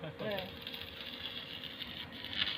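An electric fan whirring faintly in the background, a steady low mechanical hum with soft voices.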